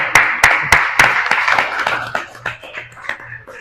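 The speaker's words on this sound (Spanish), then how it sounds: "un aplauso, por favor" Applause on a marketing and books podcast, a few sharp, loud claps from a small group at first, softening into a lighter, scattered patter that trails off.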